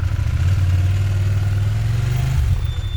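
A heavy motorcycle engine, over 250 kg bike, runs close by, its low throbbing note rising briefly in a rev before settling, with some mechanical clatter.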